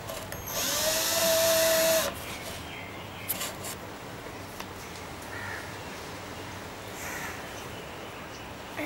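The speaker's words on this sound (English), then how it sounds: "you'll need a drill and to drill a hole in it" A power drill whirs briefly to bore a hole in a plastic bottle for a water-powered rocket, a close, steady buzz lasting about a second before quieter handling noises follow.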